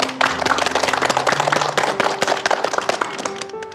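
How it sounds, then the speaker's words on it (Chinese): An audience claps at a support gathering for Huntington's disease families, brisk uneven hand claps close by over a held musical tone, lasting throughout. "让我们给他们2位鼓鼓掌。"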